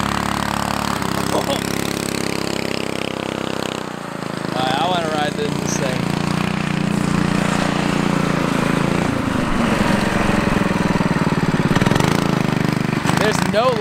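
An off-road go kart's swapped engine runs loud and close during a ride, its drone holding steady with revving swells and some clanking, while a person talks over it.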